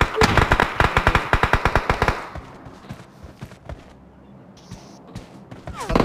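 Rapid automatic gunfire from PUBG Mobile, a fast loud burst of shots for about two seconds, followed by quieter scattered shots and thuds in the battle, with more firing starting again at the end.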